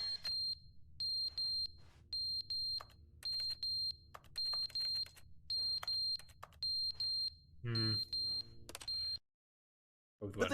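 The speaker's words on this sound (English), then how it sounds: "The smoke alarm's batteries are dying." Repeated shrill electronic chirps from a smoke alarm with failing batteries in the video game The Stanley Parable: Ultra Deluxe, pulsing in a steady rhythm. A brief clatter comes near the end, then everything cuts to silence.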